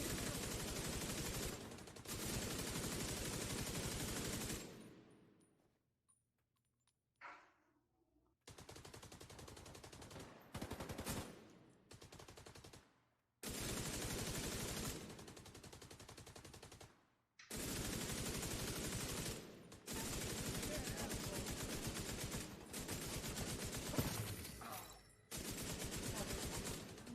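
Bursts of automatic gunfire from the game The Division 2 come in long, loud volleys with short pauses and near-silent gaps between them.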